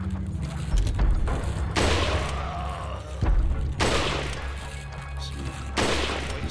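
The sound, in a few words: sniper rifle gunfire in Resident Evil 4 video game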